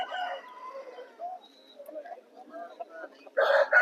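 At a Vijayawada rooster market, a healthy four-kilogram rooster clucks softly under a voice, then breaks into a loud, close crow near the end.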